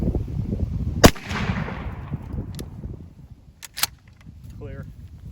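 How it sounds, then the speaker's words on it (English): A single 12 gauge shotgun slug fires once, sharp and loud, with a trailing outdoor echo, followed by a few mechanical clicks and clacks of the action being worked amid quiet background. "Second shot, 12 gauge slug."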